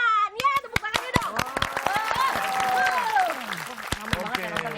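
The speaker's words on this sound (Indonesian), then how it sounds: "Ya, tepuk tangannya dong." An audience claps at a snack-food business presentation, sharp separate hand claps scattered over continuous talking and cheering voices, moderately loud.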